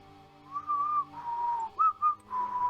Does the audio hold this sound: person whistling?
yes